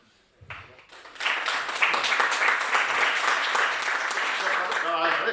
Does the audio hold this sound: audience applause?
yes